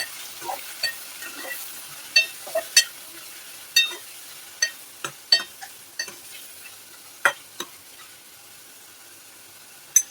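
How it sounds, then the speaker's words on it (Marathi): Kaleji petha stirred in a pan of frying garlic: a soft sizzle under repeated clicking scrapes and taps of a spoon against the pan, close and unhurried. "लसणावर आपल्याला कलेजी पेठा ॲड करायचा आहे. हा, आता हलवून घेऊया."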